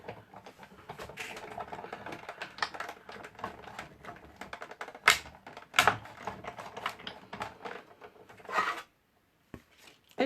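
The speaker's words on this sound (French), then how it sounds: "Et je passe dans ma machine de coupe." A manual die-cutting machine pressing paper and a heart-shaped cutting die through its rollers, giving dense clicking, rasping and cranking noises for about nine seconds, then brief clunks after a short pause.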